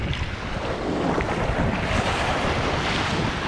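Gentle ocean surf rolls onto the shore at Tamarindo beach in Costa Rica, a constant broad wash of water mixed with wind rumble on the microphone, steady and fairly loud throughout.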